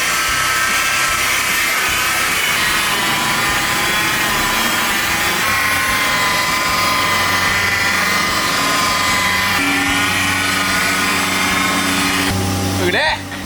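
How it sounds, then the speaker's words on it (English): A very small rotary buffer polishes car paint on a Charger R/T in tight angles and nooks, a continuous high whining hum that wavers slightly in pitch as it works, ending with a brief rising sweep. "This super duper tiny one is perfect for these little angles and little nooks and crannies"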